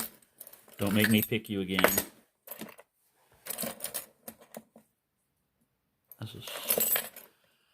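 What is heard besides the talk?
keys jangling while searching for keys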